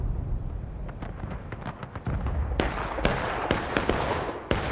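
Confederate artillery fires in a Civil War battle game, sharp cannon reports cracking out one after another in close succession over a steady background rumble of battle.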